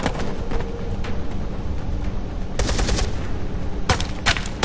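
Bursts of automatic gunfire in the game Beyond: Two Souls, rapid loud shots clustered in two or three volleys over steady background noise, with no one talking.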